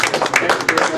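An audience applauds for a speaker at a free speech forum, a steady wash of clapping lasting about a second with no break.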